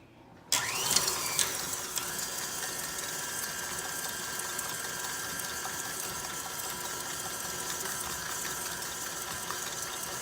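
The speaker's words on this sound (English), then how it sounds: "Next, I will cream together in a mixer butter, white sugar, and brown sugar until they are smooth." An electric mixer creams butter with white and brown sugar, switching on abruptly and then running as a steady close mechanical whir with a faint rhythmic rattle, unbroken for about ten seconds.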